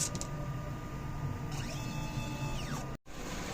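Inkjet printer running a nozzle test right after a head cleaning: a steady mechanical whir with rising and falling carriage-motor tones partway through, a brief click, then a short cutoff.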